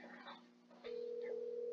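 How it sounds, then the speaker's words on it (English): Telephone ringing in the fan-made horror video game Porkchop's Adventure, a steady electronic ring tone that swells after a quieter opening and holds on, close and fairly faint. "Oh, that's a phone."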